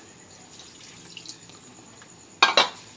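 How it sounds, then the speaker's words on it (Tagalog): Water is poured from a container into a cooking pot holding mussels and salmon head, giving two brief splashy gushes near the end after soft kitchen clatter. "Dagdagan natin ng konting tubig."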